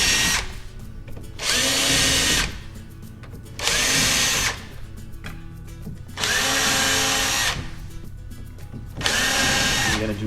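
A power drill drives screws into the interlock of an Andersen A-Series patio door, running in four steady bursts of about a second and a half each with short pauses between them, loud and close.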